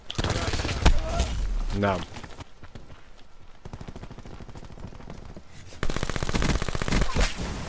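VMP submachine gun fire in Call of Duty: Black Ops 4 comes in rapid automatic bursts at the start and again near the end, loud and close, with someone talking over the game audio.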